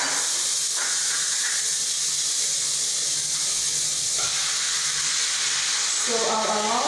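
Meat browns in a hot pan with margarine, onion and pepper, giving a steady loud sizzling hiss throughout, with a faint voice murmuring near the end.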